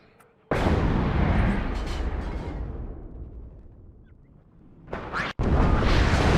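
M110 self-propelled artillery firing in the WARNO wartime strategy game: a loud, booming blast that rolls off over several seconds, then a second sharp report and a further heavy blast close behind.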